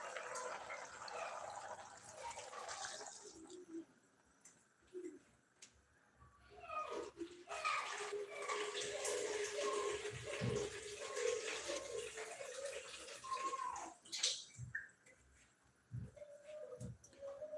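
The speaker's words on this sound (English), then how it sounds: "and a little bit of water." Water pours into a cooking pot of matoke with beans and greens in a Kenyan home kitchen, a continuous splashing rush with birds cooing in the background and faint talk.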